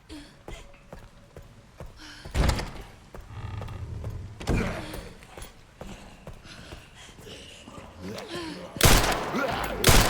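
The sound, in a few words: gunshots in the video game Resident Evil Requiem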